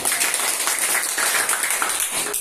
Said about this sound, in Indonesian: Oke, tepuk tangan bagi hadirin.